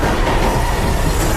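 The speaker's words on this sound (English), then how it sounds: "Without thinking, Luke latches onto the moving train," Loud, close rumble of a moving subway train, continuous rolling wheel noise with clickety-clack and faint metallic squeal, filling the whole moment with no speech.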